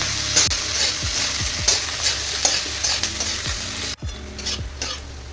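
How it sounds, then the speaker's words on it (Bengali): Onions sizzle steadily in a hot pan, frying until reddish-brown, while a utensil stirs and scrapes them in repeated strokes, close and fairly loud. "পেঁয়াজগুলোকে আমি লাল লাল করে ভাজছিলাম।"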